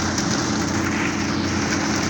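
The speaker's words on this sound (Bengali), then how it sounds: "বৃষ্টিতে পুরো শরীর ভিজে যাইতে আছে" Steady rain pours onto a ferry at the Galachipa ferry ghat, a dense continuous hiss with a low drumming layer, loud and close with no voices.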